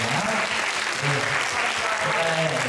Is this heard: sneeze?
no